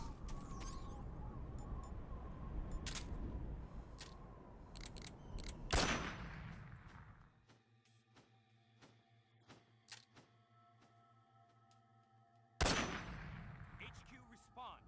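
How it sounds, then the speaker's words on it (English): Gunfire in Metal Gear Solid 3: Snake Eater: dense rattling bursts and single loud shots over rough background noise, then a quieter stretch of humming and clicking tones before another loud blast. "We're under enemy fire."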